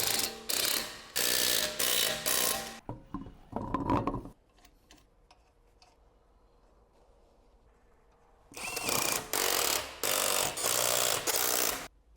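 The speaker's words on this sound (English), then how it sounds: "Use a 17mm socket to pre-tighten." Ratchet with a 17mm socket tightening lug nuts on a 2006-2011 Honda Civic wheel, in loud close bursts of rapid clicking separated by a long quiet pause with faint handling noises.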